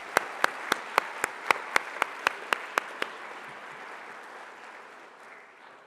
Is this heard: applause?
yes